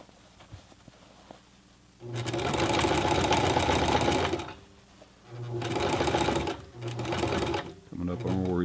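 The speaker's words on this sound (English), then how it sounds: "do a couple of stitches over and then do a back stitch or two" A Sears Kenmore 12781 sewing machine stitching through denim and leather, three loud, close bursts of rapid mechanical whirring and needle clatter separated by short pauses.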